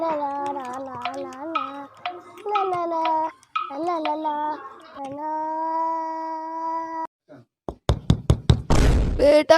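A few sharp knocks on a door ring out near the end, following a stretch of sung, cartoonish voices in a children's story.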